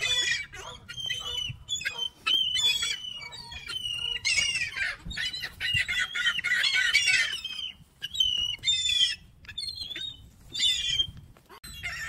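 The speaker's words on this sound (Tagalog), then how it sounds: "ang daming mga bibe" Many ducks gathered near a lake and playground, calling in overlapping squawks and quacks with bursts of busy chatter, fairly close and continuous, with faint outdoor rumble beneath.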